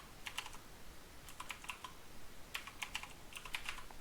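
Someone types a password on a computer keyboard, with quiet short bursts of key clicks separated by pauses, close and faint with no speech.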